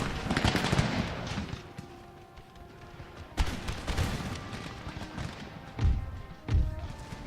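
Musket volleys fired by rank during a battle in Empire: Total War, with a dense crackle of gunfire rolling throughout and sharper, louder bursts punching out near the middle and twice toward the end.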